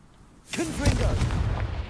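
A Confringo fire spell bursts in Hogwarts Legacy, a sudden loud blast that flares up and rolls into a sustained crackling roar lasting over a second, with no voices over it.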